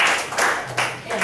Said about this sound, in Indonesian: berikan tepuk tangan buat Denko.